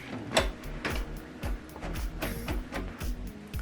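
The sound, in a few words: HP printer printing a document from a computer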